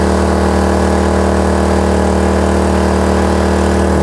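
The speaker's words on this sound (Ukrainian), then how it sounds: "Тепер давайте дамо генератору повне навантаження" A Kraft&Dele KD681 inverter generator runs under electrical load in a steady, loud mechanical drone with a strong, even hum and no pauses, and no voices are heard over it.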